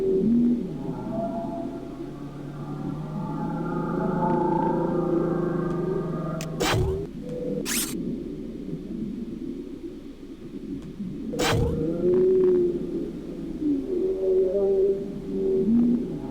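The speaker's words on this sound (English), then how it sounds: "I love whale sounds." Whale calls from the Bill Nye's Stop the Rock! video game, set underwater: a run of long, tonal moans and wavering cries over a low rumble, broken by a few sharp bursts, continuing steadily throughout.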